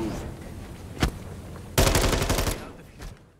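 Automatic gunfire in the first-person shooter Modern Warfare III, opening with a single sharp shot and then a loud rapid burst lasting under a second that trails into echo.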